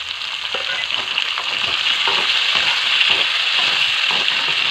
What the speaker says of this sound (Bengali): এবার দেবো ক্যাপসিকাম, কাঁচা পাকা টমেটো